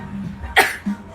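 A single sharp sneeze, close and fairly loud, with a soft breath just before it and a short vocal sound just after.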